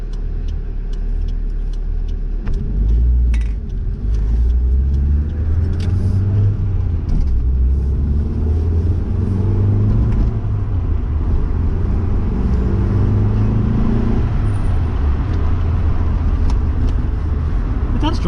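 A Mazda 323 Familia with a new turbo setup drives along, its low engine rumble and road noise steady throughout, quiet and close, with someone talking over it.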